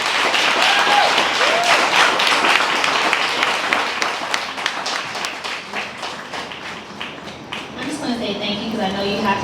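An audience claps for an award presentation, dense sustained applause from many hands filling the room, with voices mixed in and the clapping thinning toward the end as talking takes over.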